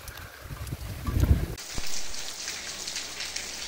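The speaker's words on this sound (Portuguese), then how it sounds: "Chuva boa, desde de madrugada que chove." Heavy rain pours steadily on a farm in Brejo do Cruz, Paraíba, a dense hiss with gusty rumbles of wind buffeting the microphone in the first half, with no talking.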